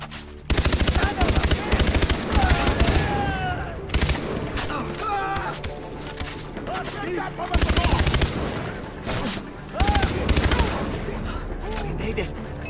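Gunfire in Far Cry 3 comes as loud, dense automatic bursts that recur several times over a steady background of game music and effects, with shouted voices between volleys.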